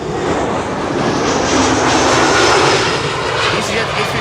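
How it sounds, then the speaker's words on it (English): An easyJet Airbus A319 comes in to land on the Kaagbaan runway at Schiphol, its loud, steady engine roar filling the whole stretch with a broad rushing drone that swells slightly, then holds. "EasyJet A319 arriving from Bristol. Landing here first."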